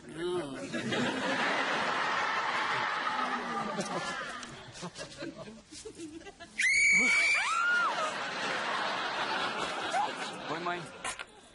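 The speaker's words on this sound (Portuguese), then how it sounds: "Eu ouvi um grito!" A sharp, high scream bursts out midway through a chaotic stretch of voices, chuckles and shouting, loud and close, with people talking and laughing around it before and after.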